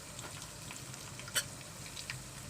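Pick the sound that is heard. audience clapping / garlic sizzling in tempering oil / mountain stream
garlic sizzling in tempering oil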